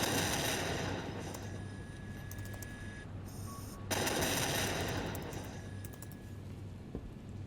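Airship gun turrets fire in a Batman video game, sustained rapid machine-gun bursts with a brief pause partway through, joined by electronic beeps and tones, fairly loud and with no voices.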